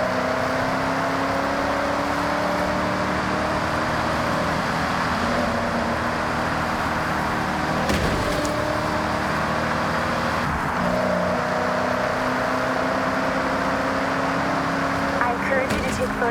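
In the Forza Horizon racing game, a car engine drones and echoes inside a tunnel with a steady, sustained hum and occasional shifts in pitch, while a voice talks over it.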